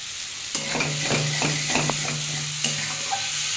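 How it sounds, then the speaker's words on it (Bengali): Potato and fish curry being sautéed in a pan, a steady close sizzle with several short stirring scrapes of a spatula; no voices. "একটু কষানো হোক।"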